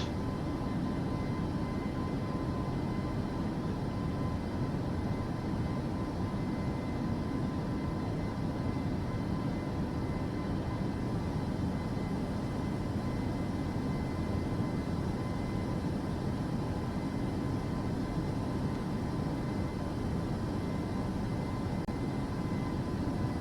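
Boeing 737 engines in a flight simulator cabin setting, a steady, continuous low jet roar with broadband rumble holding even throughout, no distinct change or voices heard.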